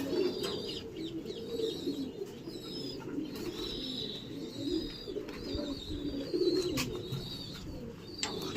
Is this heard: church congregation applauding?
no